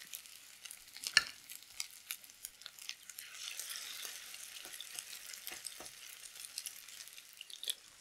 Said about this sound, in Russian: Формую. И обжариваю до золотистой корочки.